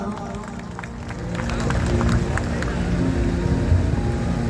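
A crowd at a live Punjabi performance at Mela Danewal in 2022 claps, a dense wash of applause that swells after the first second and carries on steadily, with a voice speaking over it.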